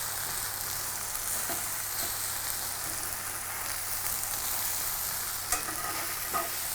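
Mushroom sizzles steadily in an oily frying pan after being flipped, a close, continuous bright crackle with a few soft pops and taps.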